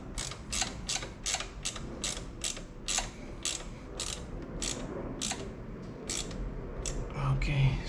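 A ratchet turns a 10 mm bolt on a Toyota alternator with a run of evenly spaced crisp clicks, about two per second, close up, over a low background hum.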